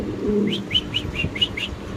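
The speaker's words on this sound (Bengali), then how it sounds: "হাতে আছে বুদাপেশ কবুতরের বেবি যেগুলো আট নয় ঘন্টা অনায়াসে উড়বে" Budapest pigeon chicks held in a hand give a quick run of about six thin, high squeaky chirps, close by, over a low background rumble.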